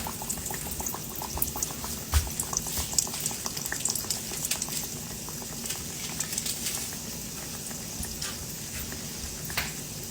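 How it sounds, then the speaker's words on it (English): Peach fried pies made from canned biscuit dough bubble and crackle in a skillet of hot oil, a close, steady, busy fizz with scattered pops and no voices. "Now that I have them all rolled out, I have my skillet of hot oil."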